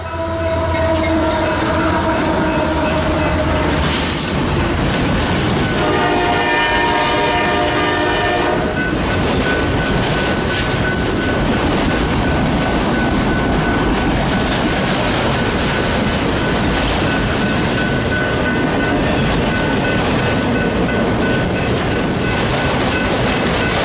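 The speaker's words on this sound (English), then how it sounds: "CSXT228 is a leader AC44CW and a CN3197 ET44AC." A freight train led by a CSX AC44CW and a CN ET44AC locomotive roars past up close, loud and steady, with a long horn blast early on and wheels rumbling continuously throughout.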